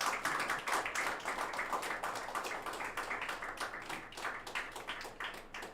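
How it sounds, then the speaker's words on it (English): Audience at a geospatial technology summit claps in dense, sustained applause, many hands patting close together with an uneven rhythm that slowly tapers off. "Kindly give her a round of applause."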